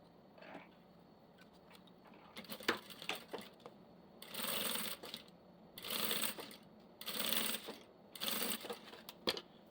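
A domestic sewing machine stitches bias binding onto clear crystal plastic for a toothbrush holder, running in several short, quiet whirring bursts separated by pauses and faint handling sounds.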